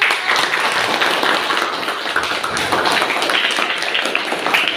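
Classroom applause from students for a classmate after her presentation, a close, lively burst of clapping with uneven taps and some scattered voices mixed in.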